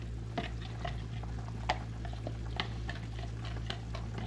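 A flour-and-water mix is stirred into braised beef in a pot. Soft, faint taps and scrapes repeat irregularly over a low, steady simmering hum.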